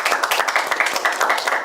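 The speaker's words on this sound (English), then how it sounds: "Run, 12 points. A round of applause." Crowd applause on a televised accountancy challenge game show, many hands clapping in a quick, even, close patter that holds at steady loudness throughout the short burst.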